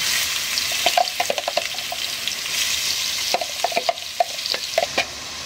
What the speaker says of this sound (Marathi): हे बघा आता कांद्याला असा मीडियम गॅसवर ना 1-2 मिनिटं व्यवस्थित शिजवून घ्यायचं।